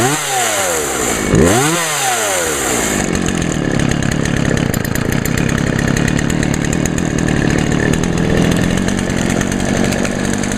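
A Poulan 2075 chainsaw, under carburetor repair, starts with a couple of rising pulls, then settles into a steady, loud, close idle as it warms up.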